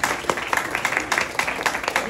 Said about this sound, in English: Give them a big round of applause, everybody.